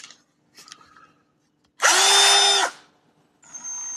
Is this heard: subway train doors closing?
no